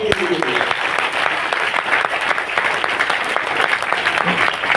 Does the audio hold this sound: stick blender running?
no